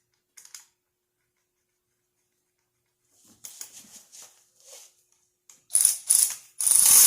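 A ratchet snugs the small bracket bolts on a Cobalt 2.2L valve cover, giving short bursts of quick, close pawl clicks separated by silences, with a longer, louder run of clicking near the end.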